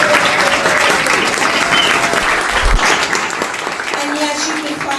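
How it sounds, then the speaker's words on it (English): An indoor audience at a Red & White BBQ event in Oakville claps in a loud, dense burst of applause that holds steady and then eases slightly toward the end. "let's give everyone in the office a big hand"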